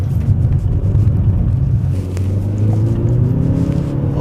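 A 2016 Hyundai Veloster R-Spec pulls hard through a roundabout in second gear, its engine drone loud and steady from the cabin, with the pitch climbing toward the end as the revs rise.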